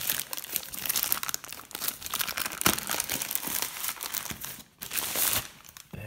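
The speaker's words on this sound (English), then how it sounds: "Of course this is Chinese wrapping paper, some sort of toxic" Thin plastic wrapping around a cheap HD FPV goggles package crinkles and crackles continuously as it is opened up close, with a few sharper crunches and no talking.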